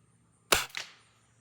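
A Beeman 1022 dual-caliber air rifle fires a single sharp, loud shot that cracks and then trails off over a short echo-like decay, with quiet surroundings and no talking.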